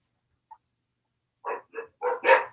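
A puppy barks outdoors at a marching band event: one faint yip, then a quick run of four sharp, high barks growing louder, close by.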